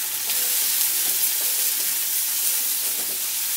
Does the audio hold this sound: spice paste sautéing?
yes